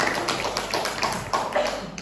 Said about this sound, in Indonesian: kita beri tepuk tangan untuk Pak Andi Agusri